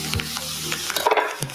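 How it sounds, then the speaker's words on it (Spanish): Octopus fries in a pan as paprika is added. Soft sizzling and crackling run throughout, with light stirring scrapes, close and fairly quiet. "Le voy a poner pimentón ahora."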